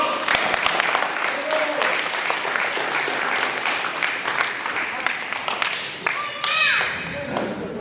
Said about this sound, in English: let's give a hand clap today to my friend Ray Ray